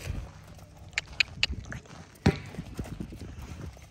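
A yearling horse wearing a saddle for the first time runs around, giving scattered hoof thuds and clip-clops with a sharp knock partway through, while a person speaks quietly nearby.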